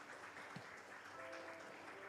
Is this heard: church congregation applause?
yes